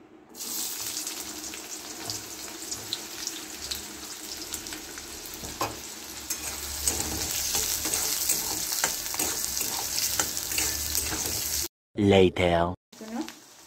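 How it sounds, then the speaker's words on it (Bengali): Small diced onions fry in a pan with a steady, close sizzle and occasional stirring scrapes, building slightly louder midway, before a brief voice breaks in near the end. "এবার আমি পেঁয়াজগুলোকে ভেজে নেব।"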